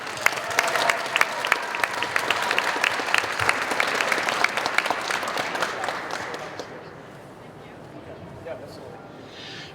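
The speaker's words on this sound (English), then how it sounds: "All right, can we clap for them once more?" Audience applause for a CANstruction team at the 2020 Midland event: a sustained burst of clapping from a crowd, loud and dense for several seconds, then tapering off to quiet near the end.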